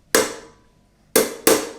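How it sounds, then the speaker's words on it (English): Hammer blows drive an old bearing race onto a new headstock bearing on a Suzuki Intruder VS1400 motorcycle: three loud, close metallic strikes with ringing decay, the first alone and the last two in quick succession. "So you want to take your hammer, take your old bearing race, pop it on top of the new one,"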